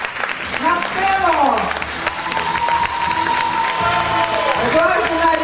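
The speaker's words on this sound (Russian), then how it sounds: "Аплодисменты!" Audience applause at a Ukrainian spa and wellness professional awards ceremony fills the room steadily for several seconds, with a voice and tonal sounds rising over the clapping.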